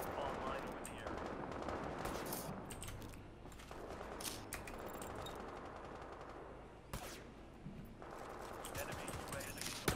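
Rapid gunfire in an online shooter video game, repeated automatic bursts and sharp cracks running throughout under ongoing voices.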